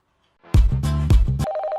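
A telephone rings loudly and close, a rapid electronic ringtone pattern that breaks into a steady tone near the end.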